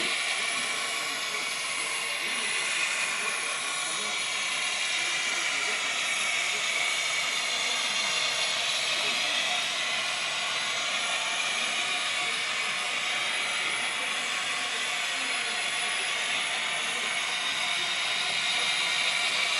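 A model train engine runs on a home layout, giving a steady, fairly loud mechanical whirring hiss with faint ratcheting that holds unchanged throughout and carries no speech.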